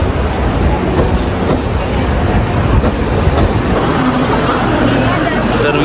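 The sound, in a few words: Indore Express train arriving at station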